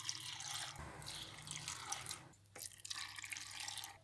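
Brine poured into a jar of small ornamental pepper pickles with vinegar and garlic, a soft close trickle and splash that pauses briefly midway before resuming.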